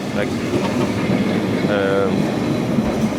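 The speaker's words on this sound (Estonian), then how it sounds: "näete, tramm, legendaarne nii-öelda, mingis mõttes siin Portugali kohta" Lisbon's legendary tram rolls past on a city street with a steady rumble and rail clatter for a few seconds, a brief squeal rising midway, while someone talks over it.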